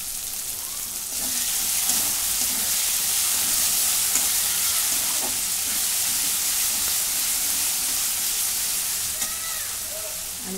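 Tomatoes hit a hot pan for a vegetable curry and fry with a steady, loud hissing sizzle that swells after the first second and holds, with faint stirring clinks underneath.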